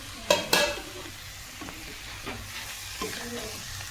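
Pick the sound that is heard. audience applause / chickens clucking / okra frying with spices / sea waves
okra frying with spices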